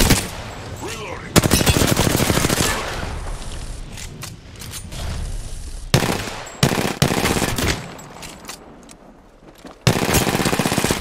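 Rapid automatic gunfire in a first-person shooter game, loud bursts cutting in and out across the clip with brief quieter gaps, other weapon noises mixed in.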